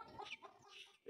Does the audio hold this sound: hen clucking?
yes